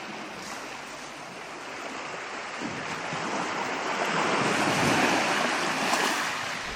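Waves wash onto the beach at Charlestown, Cornwall, a continuous soft roar of surf with a gentle swell in loudness midway and some wind rumble.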